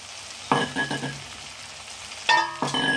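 Carrots and peas sautéing in a pan for wheat rava kichadi, a soft steady sizzle broken by two bursts of louder scraping and clatter near the start and again near the end, with no talk.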